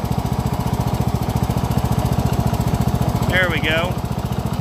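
A Cub Cadet riding lawn mower engine runs steadily with a fast, even chugging throb, loud and close, while a person speaks briefly near the end.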